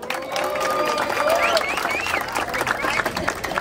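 An audience at a rap battle in Londrina applauds and cheers, with steady clapping under whoops and shouts that carry on throughout at a strong level.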